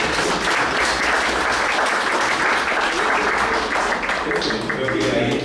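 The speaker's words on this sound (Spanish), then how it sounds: "Un aplauso más grande." Loud, dense audience applause fills the room at a school talk on recovering the Kakana language, continuous clapping from a large crowd close by, tapering slightly near the end.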